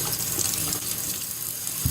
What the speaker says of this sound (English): Turn on the water and scrub with your hand or a sponge.